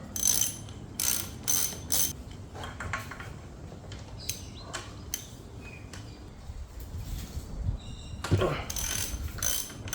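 A ratchet wrench with a flexible head and extension works on an intercooler nut in a Toyota Land Cruiser 200 engine bay, giving bursts of sharp clicking that stop and restart, with soft metallic knocks in between.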